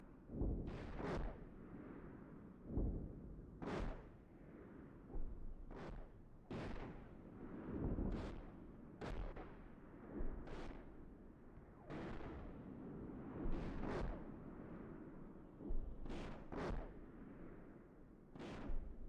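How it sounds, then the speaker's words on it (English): Artillery booms from behind the lines in Steel Beasts Pro PE, a tank combat simulation, land as distant heavy thuds at irregular intervals, roughly a dozen over the span, each with a rumbling tail, and no talk. "It's artillery firing behind the lines."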